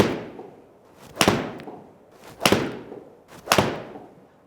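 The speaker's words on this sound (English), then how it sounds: "so I've hit my 5 golf shots" Golf shots struck with an 8-iron: three crisp, loud impacts spaced roughly a second apart, each a sharp crack with a short fading tail, heard alone with no talking.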